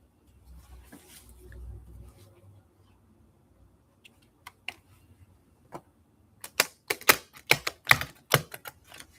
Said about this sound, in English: That one is hard to shuffle because there's only a little bit left.